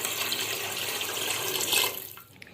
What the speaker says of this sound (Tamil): இப்போது நம்ம அளந்து வச்சுருக்க தண்ணியை ஊற்றிடலாம்